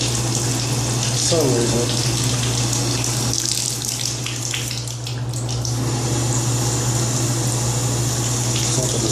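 Cold water running from a bathroom sink tap during home maintenance, a steady continuous flow heard close up with a constant hum beneath it, while someone briefly talks over it.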